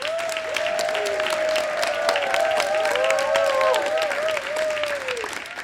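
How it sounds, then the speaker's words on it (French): An audience at a graduation gala claps steadily for the graduates for several seconds, with voices calling and cheering through the applause. "Applaudissons-les."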